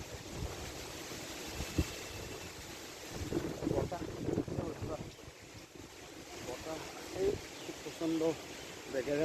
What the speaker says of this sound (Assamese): প্ৰচণ্ড বেগেৰে বতাহ বলিছে